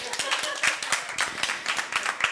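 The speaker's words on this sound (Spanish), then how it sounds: "aquí un pequeño aplauso o algo, ¿no?" A small audience gives a short burst of distinct individual claps at the end of a cycling workshop talk, uneven and sparse, with faint voices underneath.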